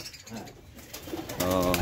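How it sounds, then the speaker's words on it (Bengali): Pigeons kept on top of baskets at a small farm in Taherpur, Bagmara, Rajshahi coo nearby, with soft low calls at first and a louder, sustained coo near the end. "দেখছেন ভাই কবুতর, দর্শকবৃন্দ খুকুন ভাইয়ের কবুতর দেখছেন"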